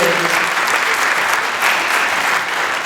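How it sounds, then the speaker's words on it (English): Audience applause for a special guest at an interview with a conductor and violinist, a full, steady wash of many hands clapping throughout. "please give him a big round of applause"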